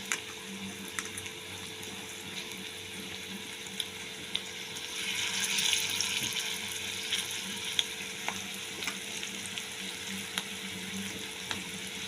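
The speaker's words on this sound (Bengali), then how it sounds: "এবার আমি এটাকে বড়ার আকারে গড়ে আমি কড়াইতে দিচ্ছি।" Lentil bora fritters fry in oil in a wok, a steady soft sizzle with occasional light pops and a swell of bubbling in the middle, close and moderately quiet.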